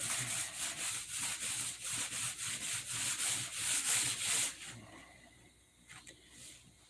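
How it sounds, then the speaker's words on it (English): A surface is rubbed back and forth to bring up a shine, in about a dozen steady rhythmic strokes heard up close, then the rubbing stops and only faint handling noises remain. "You'll notice just rubbing it here, I'm getting the flashing up."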